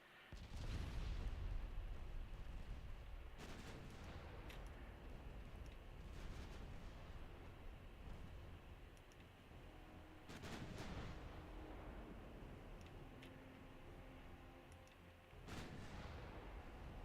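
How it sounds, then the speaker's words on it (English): Heavy naval gunfire and artillery booms in the warship strategy game Ultimate Admiral Dreadnoughts, with repeated loud blasts landing every few seconds over a dense, continuous rumble of battle. "So much gunfire."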